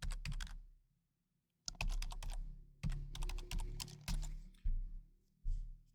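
Someone types a password on a computer keyboard in quick bursts of close, crisp keystrokes. A brief pause splits the typing near the start, and then several more rapid clusters of key clicks follow.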